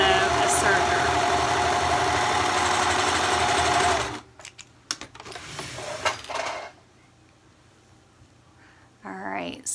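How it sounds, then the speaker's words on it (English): A sewing machine stitching a sweater sleeve runs steadily for about four seconds with a loud mechanical whir, then stops, followed by quieter handling clatter and brief bursts of machine noise. "you sew this with a sewing machine first"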